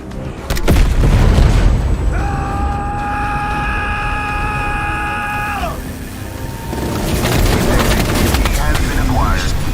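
A weapon firing sequence in Call of Duty Black Ops Cold War Zombies: a loud boom and low rumble, then a sustained rising tonal whine lasting several seconds that cuts off, followed by further rumbling blasts.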